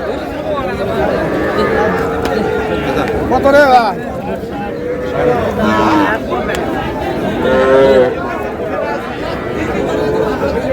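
Cattle moo a few times amid a busy crowd at a cattle market in Kushtia, with steady chatter and people talking nearby throughout.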